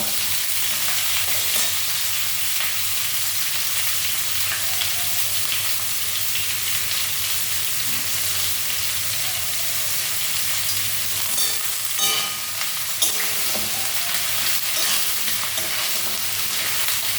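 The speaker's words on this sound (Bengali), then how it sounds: "এটাকে একটু ভালো করে ফ্রাই করতে হবে" Food fries in a pan, a steady close hiss and crackle of sizzling oil running throughout, with occasional scraping stirs.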